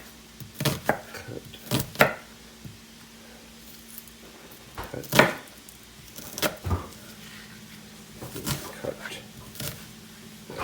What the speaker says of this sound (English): The little bottom button will hold the onion together for you while you cut